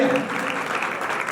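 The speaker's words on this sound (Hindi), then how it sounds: "जोरदार ताली बजाएंगे" A church congregation claps loudly during worship, a brief dense burst of applause mixed with voices.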